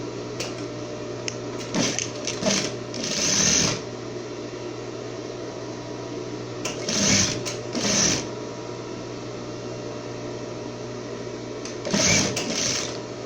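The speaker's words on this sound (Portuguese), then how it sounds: "Vou costurar do outro lado, do mesmo jeito, com meio centímetro só." Domestic sewing machine stitching a half-centimetre seam on a halter-neck swimwear top, heard in several short bursts of fast whirring over a steady background hum, close and fairly loud, with quiet pauses between runs.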